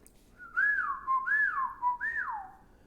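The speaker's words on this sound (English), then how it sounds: "Some people can whistle with their mouth, right?" A person whistles with the mouth alone, three rising-and-falling swooping phrases in a clear, steady tone, close and fairly loud with no talking.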